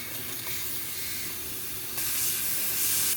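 A 12 volt air compressor pumping up 4x4 tyres gives off a steady, loud hiss. The sound brightens and grows stronger partway through as air flows through the valve.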